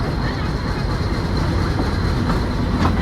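Ooty toy train rolling along its rails, a steady continuous rumble with faint rhythmic clatter, heard close and loud throughout without talk.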